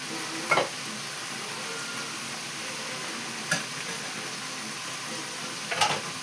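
Tempering sizzles quietly in a pan of dal, a soft steady crackle broken by a few brief clatters of stirring, with no voices.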